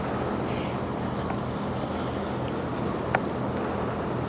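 Steady low engine rumble and broadband wash of a motorboat turning on coastal water near Hussey Sound, Maine, at sunrise, with wind buffeting the microphone throughout.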